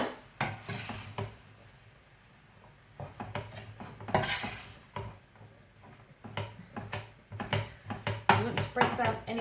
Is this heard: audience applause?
no